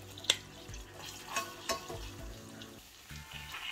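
Finely chopped shallots frying in melted unsalted butter in a pan, a soft steady sizzle with occasional utensil clicks and stirring scrapes, close and fairly quiet.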